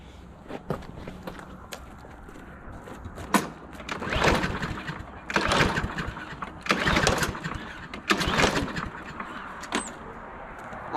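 Repeated pull-starts on a push lawn mower with a dirty carburetor that won't start, several raspy rope pulls with brief sputters, separated by shuffling and handling noise, fairly close.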